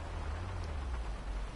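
Steady rain falls on a car while it sits at a red light, a dense, even wash of low rumbling noise with faint patter, continuous and fairly quiet, with no voices.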